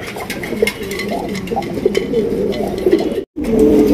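Pigeons coo continuously at a pigeon farm, several birds overlapping in a busy, close chorus of throaty calls with a brief gap near the end.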